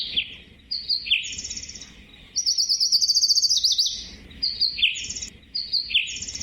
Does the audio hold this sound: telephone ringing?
no